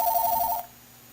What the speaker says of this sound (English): We've got a phone call here, Mike.